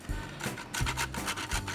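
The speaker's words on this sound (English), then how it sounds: "I'm gonna grab my little bit of nutmeg and I'm gonna grate that over the top" Whole nutmeg being grated over a glass of eggnog, a series of short rasping scrapes in quick rhythmic strokes, close and fairly quiet.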